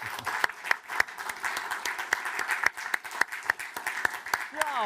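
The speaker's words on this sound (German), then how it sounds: "den Applaus haben Sie schon bekommen" An audience applauds after a speaker's introduction at a lecture event, a moderate, steady clapping of a seated crowd with distinct individual claps, and a voice briefly heard at the end.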